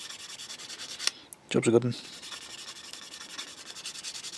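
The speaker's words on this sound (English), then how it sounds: "Just go at it with a sanding sponge." A sanding sponge scrubbing a Takom Chieftain Mk.10 tank scale model, giving a steady close rasping rub throughout with a brief heavier scuff midway, and someone speaks a few words over it.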